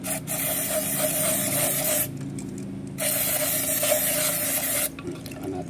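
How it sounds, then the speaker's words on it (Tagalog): Aerosol brake pad cleaner hissing onto a Ford Everest fuel filter, close and loud in two long continuous bursts separated by a short pause. "Spray lang natin."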